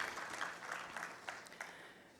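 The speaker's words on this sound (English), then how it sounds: "could we have a huge, huge round of applause for all of you" Steady applause from a crowd at a manufacturing summit in Mumbai, a soft continuous patter of clapping that tapers slightly toward the end.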